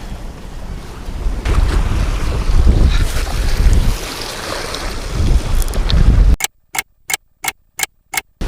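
Wind buffets an open microphone on a boat during cold-water spring catfishing, with waves slapping the hull in a steady roar; near the end it cuts to a rhythmic series of short, sharp pulses.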